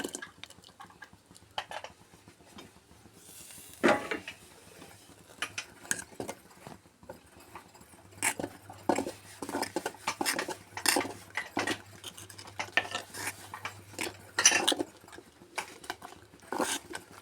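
Ground coconut paste goes into a pot of simmering moru curry, with clinks and scrapes of a spoon against the metal pot. The sound comes in irregular taps and rattles over a low bubbling hum, close by and moderately loud.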